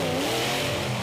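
The Equalizer monster truck, driven by David Morrison at a beach event, roars loud and close as its engine revs hard in one brief, continuous burst.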